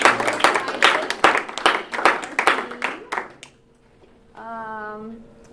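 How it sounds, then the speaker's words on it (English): Audience applause at a training session, several seconds of steady clapping from a roomful of people that thins out and stops, followed by a speaker's voice. "So let's give them a round of applause."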